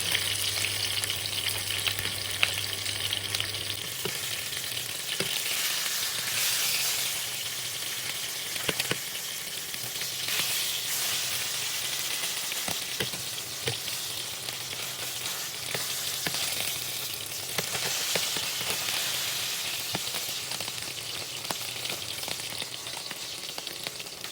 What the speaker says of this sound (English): While the fish fries, just add on the oil